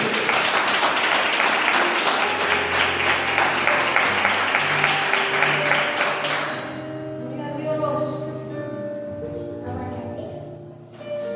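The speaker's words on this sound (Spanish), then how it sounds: "¿Cuántos dan un fuerte aplauso a nuestro Dios?" Loud applause from a church congregation during a sermon fills the first several seconds, then fades out as music with sustained tones carries on alone.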